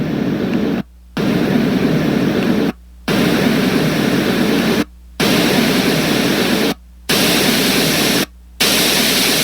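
A Renpho white noise machine cycles through its extra sounds, giving steady broadband hiss-like noise that cuts out briefly about every two seconds before the next tone begins, loud and close with no talking.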